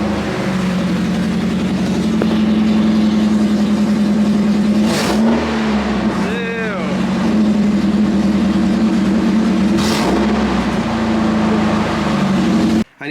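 Nissan 240SX with an HKS Hi Power exhaust and ISR header starts up and settles into a loud, steady idle, with a couple of short revs rising and falling partway through.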